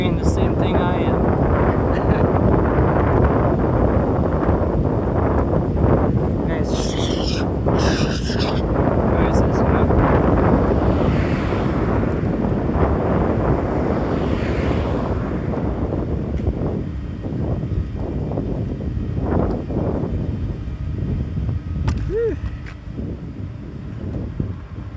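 Gusty wind rumbles against the microphone in Ninohe, Japan, loud and continuous, with someone talking over it in places and brief thumps and handling knocks scattered through.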